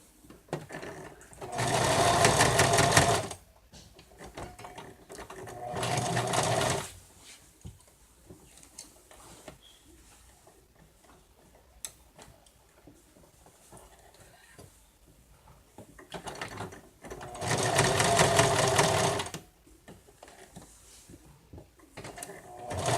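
A sewing machine stitches the arms onto a stuffed bear, running in three steady bursts of a couple of seconds each, separated by quieter pauses with small handling noises.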